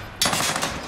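A short burst of heavy gunfire in a battle royale shooter, starting abruptly and loud, with rapid overlapping shots and no voices.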